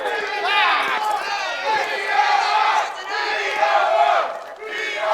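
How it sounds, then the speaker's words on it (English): A large crowd of wrestling deathmatch fans roars and cheers loudly and steadily, rising and falling in waves with a few dips between surges. "you hear those fans are loving the action in this"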